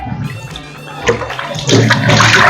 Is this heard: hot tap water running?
yes